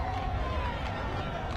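Football match crowd at a stadium match between Bikita Minerals FC and Manika Diamonds FC, a dense continuous roar of cheering in the distance, steady throughout the short stretch.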